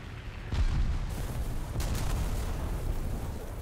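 Explosions from a bombing run in the War Thunder video game, a dense sustained rumble with a sharp boom burst near the start, heavy and continuous throughout with no talking.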